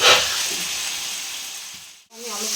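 Chicken curry with potatoes sizzles loudly in a hot pan, a dense steady frying hiss that fades and briefly cuts out as it is stirred, then resumes more quietly.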